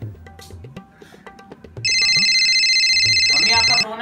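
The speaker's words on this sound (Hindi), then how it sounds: "मम्मी आपका फोन आ रहा है" A phone ringtone rings loudly and steadily for about two seconds, a bright repeating electronic tone that cuts in over a household conversation between a mother and her son, who keep talking around it.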